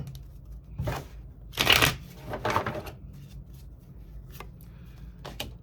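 Tarot cards being shuffled close up in several quick riffling bursts, with soft handling rustles between them and no speech.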